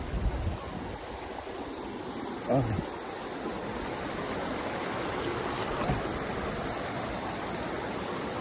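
Water rushes steadily at Curug Genting waterfall in Giritirta, Pejawaran, reduced by the dry season, a broad continuous roar with a brief voice and a faint whistle-like tone briefly rising above it.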